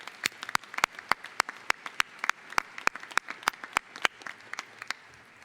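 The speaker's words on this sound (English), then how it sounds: "Another round of applause for the Voices of Parkside." Audience applause for the Voices of Parkside choir at a university commencement ceremony, heard as sparse, distinct individual claps rather than a dense roar, moderately quiet and spread across the room.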